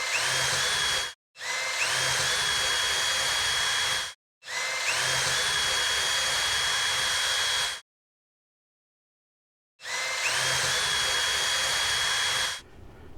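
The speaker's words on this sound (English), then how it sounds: "And drilling the mounting holes for that." A power drill boring mounting holes for a 9-volt battery box in a Fender Telecaster body, loud whining bursts with a rising pitch, four runs separated by short pauses and one longer gap.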